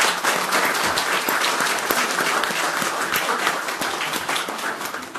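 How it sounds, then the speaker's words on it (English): Full, continuous applause from a crowd at a Jefferson County, Alabama meeting, honoring champion student athletes, steady and fairly loud for the whole stretch with no speech over it. "You all give these student athletes a round of applause."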